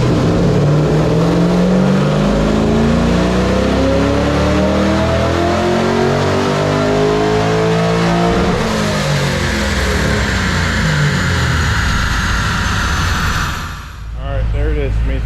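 An LS3 V8 swapped into an E90 BMW revs hard on a dyno pull, loud and close, its rising engine harmonics climbing steadily before cutting off near the end.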